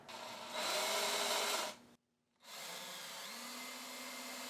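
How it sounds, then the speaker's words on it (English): A power drill runs in two long bursts separated by a brief silence, its motor whirring as it bores through wood. "First thing I'm going to do is drill out some spots for my saw blade"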